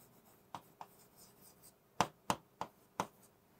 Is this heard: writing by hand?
yes